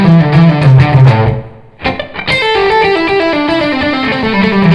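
A distorted electric guitar plays a lick in A at medium tempo, bright sustained notes and quick picked runs with a short pause midway, loud and alone.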